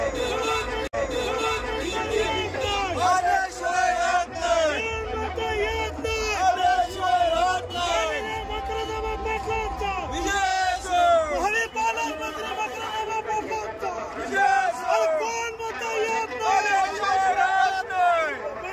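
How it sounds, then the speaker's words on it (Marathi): Party workers at an election victory celebration make a loud, dense crowd noise of overlapping shouts and chanting voices that runs without a break throughout. "हा विजयाचा जल्लोष"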